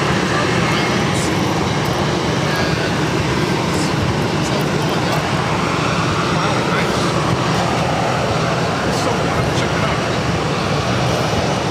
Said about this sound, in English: Airlines A320 heading to Fort Lauderdale, Florida.